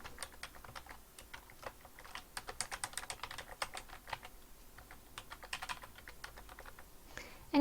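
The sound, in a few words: typing email address and password on computer keyboard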